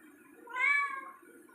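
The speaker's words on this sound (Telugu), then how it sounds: "చూడండి పిల్లి ఎలా అరుస్తుందో" A cat gives a single clear meow, swelling and fading over about a second, close to the microphone in an otherwise quiet setting.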